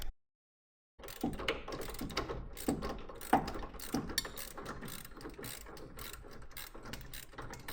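A ratchet wrench clicks steadily while working on a fire-damaged 1969 Ford Escort Mk1 van, with 1/2 inch and 1/4 inch drives reaching down behind a component, the repeated close mechanical ratcheting starting after a brief silence.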